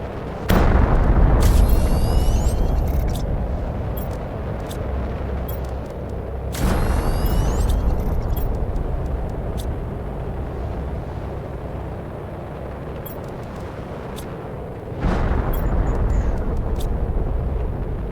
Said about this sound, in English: I want to launch another one. Another pressure rocket.